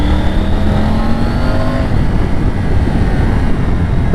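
A Triumph Tiger 900 Rally Pro motorcycle with a quick shifter, heard while riding as a loud continuous engine roar that climbs steadily in pitch as it accelerates, mixed with heavy wind rush.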